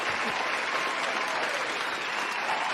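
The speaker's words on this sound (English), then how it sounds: "A long, full, loud round of applause." Steady, continuous round of applause, a dense even wash of clapping from a crowd with no break or talk over it.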